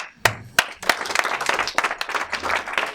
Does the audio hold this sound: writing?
no